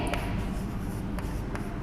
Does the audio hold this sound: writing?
yes